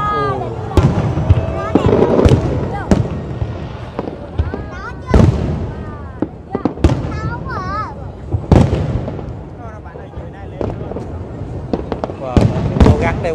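New Year 2025 fireworks burst over Saigon in a rapid barrage of loud bangs and crackles, with voices and crowd noise beneath the explosions throughout.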